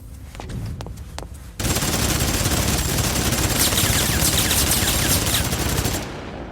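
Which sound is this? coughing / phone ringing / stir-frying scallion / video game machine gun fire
video game machine gun fire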